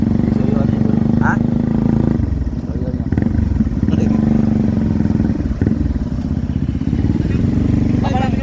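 A motorcycle engine runs steadily and loud throughout, a continuous low drone close by on a rural barangay road, with people talking over it at times.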